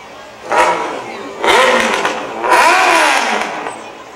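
Tractor engine revving in a county Irish parade, three loud bursts of throttle rising and falling about a second apart, close by with faint background noise between them.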